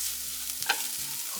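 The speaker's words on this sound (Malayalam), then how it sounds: "നല്ലപോലെ ഒന്ന് വഴറ്റിയെടുക്കാം." Paneer pepper masala sautéing in a pan: a soft continuous sizzle broken by a few sharp scrape-and-clatter strokes of a spoon stirring, close and fairly quiet, with nobody talking.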